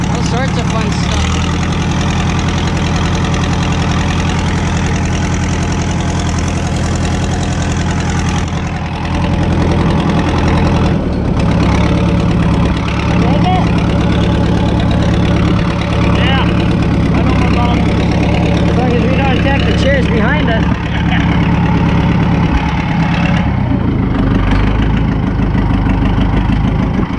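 Antique tractors, including Minneapolis-Moline machines, idle at a threshing show, making a loud, continuous low engine drone with a steady knocking throb, while voices are faintly heard in the crowd.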